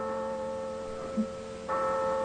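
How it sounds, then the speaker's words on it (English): Church passing bell tolling for the dead, a sustained ringing hum with lingering overtones, joined by a second strike that swells the tone near the end. "That's the passing bell for the dead."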